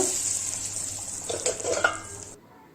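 Whole spices dropped into hot oil for a Bengali tempering, a bright hissing sizzle with some stirring and clinks of a pot before it cuts off abruptly as the lid goes on.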